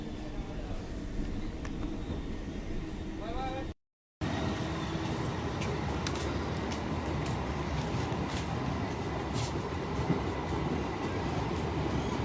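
A train rumbles steadily at Una railway station in Himachal, a dense continuous roar with faint rail clicks throughout, briefly cut by a moment of silence near the start.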